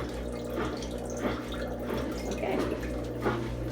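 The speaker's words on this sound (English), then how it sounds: "still draining out, quite a bit of water" Water drains from a Kuppet twin tub portable mini washing machine, a continuous splashing trickle with small drips throughout, close and moderately quiet, with a brief spoken word.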